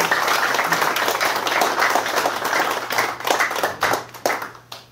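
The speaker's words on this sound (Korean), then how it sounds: "우리 박수 한번 다시 보내주십시오." An audience at a Korean history forum claps together, dense and steady at first, then breaks into a few scattered louder claps as it dies away.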